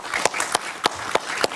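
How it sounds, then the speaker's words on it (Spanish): A television studio audience claps for an arriving guest, with a few sharp, distinct claps standing out over a thin, brief patter of applause. "Gustavo Tovar, un aplauso para él, por favor"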